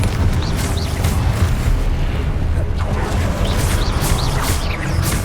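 Confringo blasting spells explode again and again in Hogwarts Legacy, a dense, continuous wall of booming, rumbling blasts that stays loud and heavy from start to finish.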